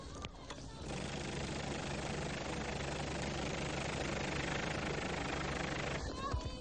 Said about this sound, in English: I can see his helicopter in the air.